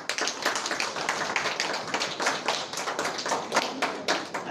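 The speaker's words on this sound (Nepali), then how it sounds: "हुन्छ, स्वागत छ, ताली बजाइदिउँ एकचोटि।" A church congregation at a Saturday service claps together in welcome, a moderately loud, fairly even run of hand claps from a group, with no speech over it.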